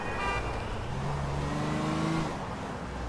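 Cars driving in the Tony Hawk skateboarding video game give a steady engine drone whose pitch slowly rises and then falls away, with no talk.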